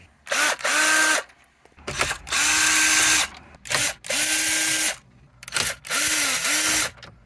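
Power drill backing out Phillips screws from dashboard trim of a 2016 Jeep Cherokee, four loud close whirring bursts separated by short pauses, each winding up and down in pitch.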